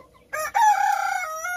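A free-range rooster crows once nearby, a loud, drawn-out cock-a-doodle-doo that follows a brief cluck and stands alone against a quiet background.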